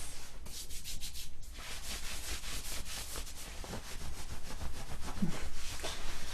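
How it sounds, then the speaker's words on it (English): Hands rubbing together briskly, a close, steady broadband friction hiss that runs continuously with slight swells and no talk. "Rubbing your hands."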